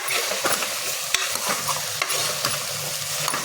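Vegetable pieces tip into a hot pan and get stirred, a loud close sizzle broken by repeated scraping and clattering spoon strikes at an uneven pace; no voices.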